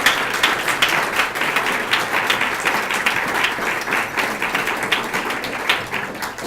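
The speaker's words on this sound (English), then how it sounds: "Let's have another round of applause for all these guys, these great students." A roomful of guests gives a sustained round of applause for scholarship students at a reception, dense steady clapping that keeps going at full strength without a break.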